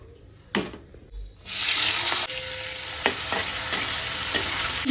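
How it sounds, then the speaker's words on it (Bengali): Prawns drop into hot oil and a steady loud sizzle takes over, with occasional clinks and scrapes of a utensil in the pan. "এবার চিংড়ি মাছগুলো ভেজে নেবো"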